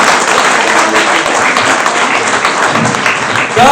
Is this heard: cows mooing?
no